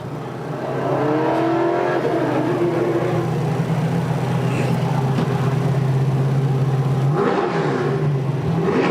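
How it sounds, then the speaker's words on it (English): A race vehicle engine at a fire department drill competition revs hard and steady for several seconds, a loud rumbling roar with rising and falling pitch, close by. "They're revving it up."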